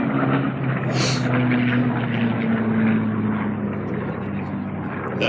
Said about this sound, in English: That beautiful FG-1D Corsair.